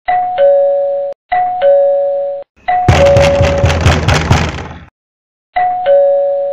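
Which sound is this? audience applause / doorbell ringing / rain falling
doorbell ringing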